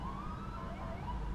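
An ambulance siren wails steadily in a rising and falling sweep at a police shooting scene in a Chicago alley, loud and continuous over a dense low rumble of traffic and engines.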